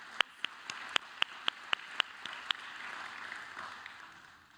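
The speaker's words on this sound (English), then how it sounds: "So let's give that a big hand of applause." At an honor society induction ceremony, a few crisp, evenly spaced claps stand out over a faint wash of general applause from the audience, which swells softly and fades.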